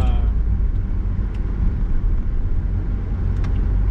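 A steady, loud engine rumble fills the cabin of a 2017 Volvo V60 D3 Momentum as it accelerates to overtake, with road noise underneath.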